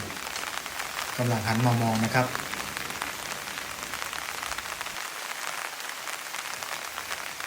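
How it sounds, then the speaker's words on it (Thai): A steady, close hiss of raindrops pattering continuously near a suspension bridge over the Lam Takhong river, while someone speaks briefly near the start over the rain. "เสียงที่ดังอยู่นี้คือเสียงเม็ดฝนนะครับ"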